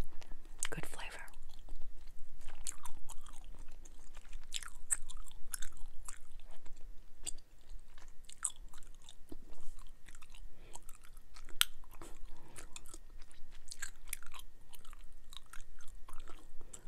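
Orbit spearmint gum is chewed close to the microphone in a quiet room, with steady wet smacking, sharp clicking snaps and moist mouth sounds repeating irregularly throughout.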